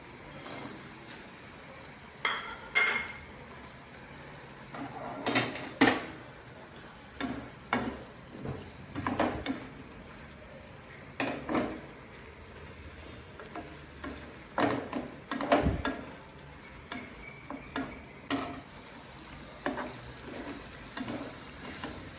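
Fried paneer pieces are stirred in a pan for chilli paneer: intermittent spatula scrapes and clacks against the pan over a faint, low sizzle, spread irregularly across the span with quiet gaps between.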